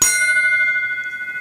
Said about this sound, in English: Just goes to show you, it rings in different places.